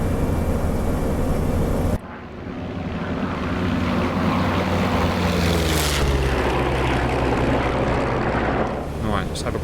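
The P-47 Thunderbolt's propeller engine roars during takeoff in a video game, a heavy sustained drone that surges louder after a brief cut and holds steady at full power, with a whooshing rise midway.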